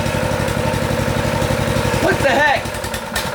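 Small engine cranked over with the choke on, a steady close pulsing chug that sputters and surges briefly near the end, with a person speaking over it.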